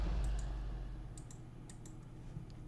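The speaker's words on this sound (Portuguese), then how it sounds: "vocês estão ouvindo os cliques desse mouse aqui" A handful of crisp clicks from a new computer mouse, spaced out and fairly quiet against a low background hum, with no talking.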